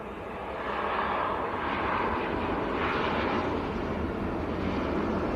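A TUI airliner arriving from Lanzarote at Manchester Airport produces a steady, broad jet engine roar that swells in after the first second and holds at a strong, even level throughout.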